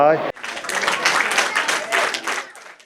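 A Gyumri concert-hall audience applauds throughout, dense steady clapping rising after a brief opening voice and carrying on at full strength before easing slightly toward the end.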